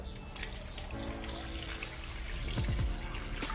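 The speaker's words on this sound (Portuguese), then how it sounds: "Agora eu vou cobrir com água." Water pours from a tap into a pot of beef feet (mocotó) for cooking, a soft continuous splashing stream that grows slightly louder near the end, with no speech.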